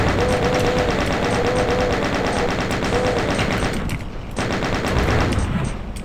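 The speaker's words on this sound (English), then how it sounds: "We'll put a chain gun on just in case." A chain gun in Doom 2 rattles out loud, rapid continuous automatic fire, briefly thinning near the end before resuming.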